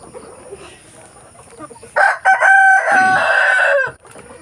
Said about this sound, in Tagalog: Rhode Island yan yung uh, Rhode Island natin